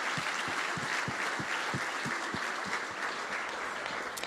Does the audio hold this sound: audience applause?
yes